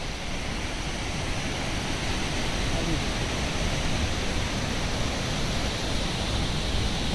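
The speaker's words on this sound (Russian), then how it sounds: "Не, водопад, как дурдом." Dunhinda waterfall in Sri Lanka roars as a loud, steady, broadband rush of falling water that fills the whole clip without a break.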